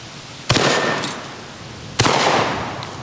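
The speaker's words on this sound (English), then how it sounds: "For this one, I'm using a number 4 buckshot." Two sharp, loud blasts from a Panzer M4 Speed PRO shotgun loaded with number 4 buckshot and fired at a drone, spaced about a second and a half apart, each trailing off in a brief echo.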